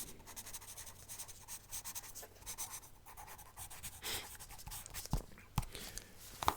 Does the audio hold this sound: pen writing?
yes